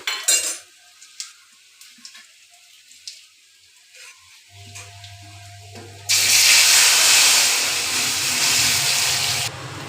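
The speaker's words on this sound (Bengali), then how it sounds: "এবার আমরা সেদ্ধ ডালটা তেলে দিয়ে দেবো" Boiled dal poured into hot oil tempered with cumin and fenugreek: light utensil clinks at first, then a sudden loud, sustained hiss and sizzle that carries on steadily to the end.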